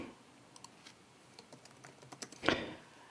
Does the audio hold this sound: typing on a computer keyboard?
yes